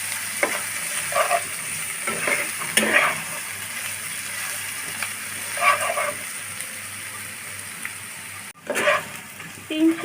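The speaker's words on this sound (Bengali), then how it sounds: "দিয়ে নেড়ে চেড়ে আমি মশলাটা ভালোভাবে কষিয়ে নেব।" Spices and chopped onion stir-fried in a pan for chicken roast, a close, continuous sizzle broken by repeated scraping strokes of a spatula, with a brief gap near the end before the stirring resumes.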